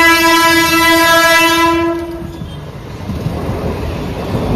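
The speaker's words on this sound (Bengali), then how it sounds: "ফাঁকা আছে ট্রেনটা, দেখো আমরা সেদিনকে যে গেলাম এত ভিড়, দেখো পুরো ফাঁকা আছে, কত সুন্দর ফাঁকা ট্রেনটা।" At a railway level crossing, a train sounds a loud, sustained horn for about two seconds, followed by the rumbling roar of its cars rolling past nearby.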